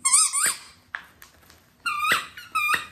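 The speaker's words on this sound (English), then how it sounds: "Squeeze me. Squeeze me. I squeak." A squeaky dog toy sounds four times: a long, loud, high squeak, two short faint chirps, then two more strong squeaks close by with no talk over them.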